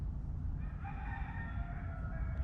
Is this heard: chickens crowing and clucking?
yes